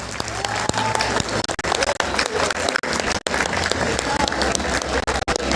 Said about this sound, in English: Can we have a cheer for them?